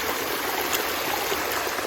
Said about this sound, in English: there's a little water going down. You see the creek down here.